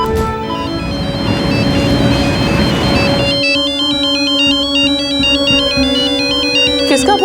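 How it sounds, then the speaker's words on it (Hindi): A phone ringtone plays clearly through the whole stretch, a repeating electronic melody that rises in pitch partway through, loud and close with a steady tone underneath, in an indoor domestic scene from a Hindi crime drama. "किसका फोन है जी?"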